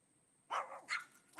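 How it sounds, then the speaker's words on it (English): Dogs barking outdoors in a neighborhood during a power outage, two or three sharp barks spaced apart, moderately loud and somewhat distant. "We got dogs over here."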